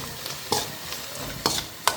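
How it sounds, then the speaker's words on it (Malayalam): Carrot pickle spices, including a pinch of asafoetida, stirred in a hot pan, with a soft steady sizzle broken by a few sharp scraping strokes of the spoon, close up and with no talking. "ഒരു നുള്ള് കായപ്പൊടി ഇടാ വീണ്ടും ഇളക്കാം"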